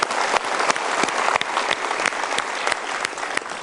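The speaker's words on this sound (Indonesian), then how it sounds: "Coba kita berikan tepuk tangan untuk Ibu Suharsono" Studio audience at a motivational seminar applauds for a woman guest, a dense, continuous roar of many hands clapping, loud and close, with no speech over it.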